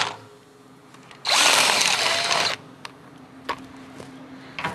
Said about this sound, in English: Your next step is going to be drill that hole out.